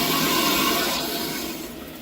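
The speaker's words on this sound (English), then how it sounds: "turn on the water, and we're going to start filling this up and checking for leaks" Water rushing into an 18-gallon Thermomate electric storage water heater tank as the supply is turned on, a loud steady hiss and gush that eases slightly over two seconds.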